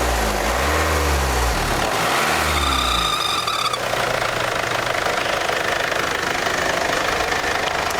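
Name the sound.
abnormal noise inside diesel engine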